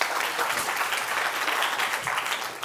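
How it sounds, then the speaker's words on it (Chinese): A seminar audience of teachers gives steady, sustained applause welcoming a speaker, a dense even patter of many hands without speech. "好，我们掌声"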